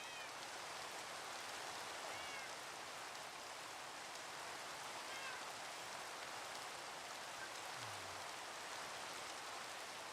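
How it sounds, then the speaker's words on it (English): Steady, dense rain falls in the Minecraft video game, a continuous soft hiss of drops that stays even and unbroken for the whole stretch, with no voices over it. "this rain, it's too much"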